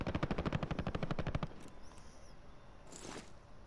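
Rapid automatic gunfire from Call of Duty Modern Warfare Warzone, a fast, evenly spaced burst of loud shots that stops after about a second and a half, followed by quieter game ambience and a short faint noise burst.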